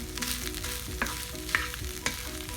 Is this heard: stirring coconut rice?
yes